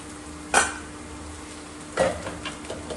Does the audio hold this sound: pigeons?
no